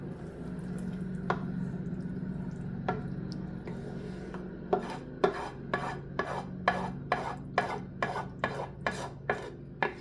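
A spatula scrapes a big frying pan of moose-meat goulash mixture into a pot, first scattered soft rasps, then a quick regular series of sharp scraping strokes, close and fairly quiet.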